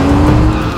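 A car braking to a stop gives a loud, close, strained engine and tire squeal in one brief, continuous burst under a steady low rumble.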